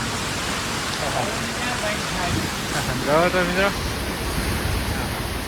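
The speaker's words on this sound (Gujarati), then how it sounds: "વરસાદ થઈ ગયો જોરદાર ચાલુ" Heavy rain and wind during a violent storm make a steady, loud broadband roar for the whole stretch, with someone speaking over the downpour.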